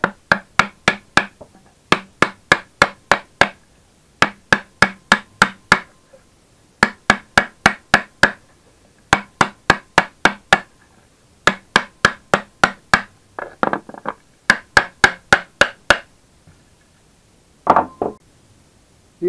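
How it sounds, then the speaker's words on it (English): A hammer taps around the edges of a rusty Hella 12-volt car horn from a VW camper, in quick bursts of sharp metallic knocks separated by short pauses, repeated many times up close. "So I'm just going to use a hammer and tap around the edges"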